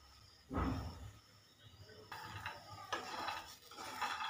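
Peanuts dry-roasting in a pan over high gas, stirred with clattering scrapes and rattling nuts after a single thump, faint and close with no voices.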